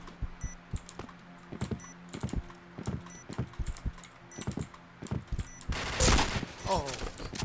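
Rapid bursts of gunfire in a tactical shooter game where a bomb has been planted, sharp repeated shots in irregular clusters with a louder blast near the end, mixed with quiet clicking from a keyboard.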